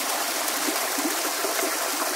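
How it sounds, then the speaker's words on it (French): A river in the Costa Rican jungle rushes steadily over a leaf-covered bed, a loud, continuous close-up wash of flowing water with no breaks. "le bruit de la rivière et t'as genre la jungle autour"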